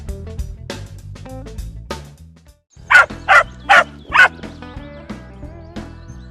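Four quick, high yips from a small dog ring out in a row over soft background music, close and bright.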